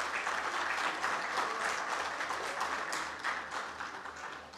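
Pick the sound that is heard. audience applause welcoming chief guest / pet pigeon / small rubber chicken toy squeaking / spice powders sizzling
audience applause welcoming chief guest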